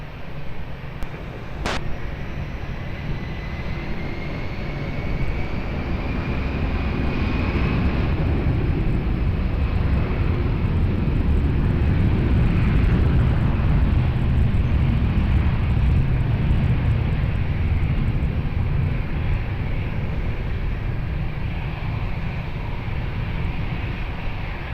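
A plane takes off from a runway at Lisbon Airport, its engine roar swelling into a loud, broad rumble that holds strong for many seconds and then slowly eases as it climbs away.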